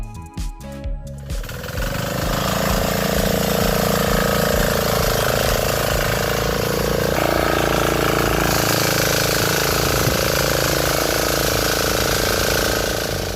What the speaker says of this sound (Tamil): இந்த மாதிரி சின்ன பவர் ட்ரில்லரை வச்சு நாங்கள் இன்றைக்கி உழவு ஓட்டிக்கிட்டு இருக்கோம்